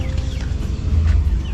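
Backyard chickens clucking and murmuring near feeding time, a low continuous burble of fowl close by with no talk.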